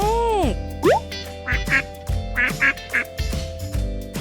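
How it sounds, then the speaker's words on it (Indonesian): A duck quacks in a quick run of raspy, nasal calls, close and fairly loud, with a few brief whistling tones at the start and no talk. "Bebek."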